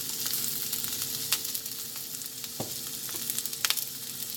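Onions and mushrooms stir-fried over high heat in a pan give a close, steady sizzle, broken by sharp scraping and clattering bursts as they are tossed, with no voices.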